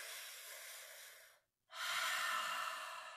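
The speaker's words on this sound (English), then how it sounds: "Really large inhale, hold, exhale." Deep breathing with a long, loud airy inhale, a brief silent hold, then a long forceful exhale, close and clear with nothing else audible.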